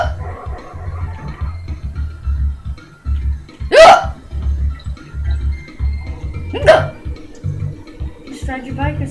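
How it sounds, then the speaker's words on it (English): Two sharp hiccups about three seconds apart stand out over a low background hum while people talk nearby. "while you have hiccups"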